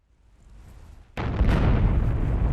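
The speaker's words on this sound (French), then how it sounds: "Explosion!" An explosion in the video game Middle-earth: Shadow of Mordor, where a low rumble builds and then breaks into a sudden loud blast that roars on and does not fade, with no talk.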